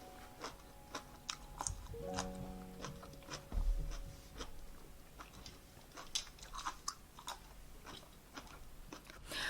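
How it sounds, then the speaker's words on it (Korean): Close, quiet chewing of webfoot octopus eaten with crisp vegetables in a shabu-shabu meal, an irregular series of soft crunches and wet bites with small clicks. "사각사각한 야채를 곁들여서 먹으면 담백하고도 고급스러운 맛이 난답니다."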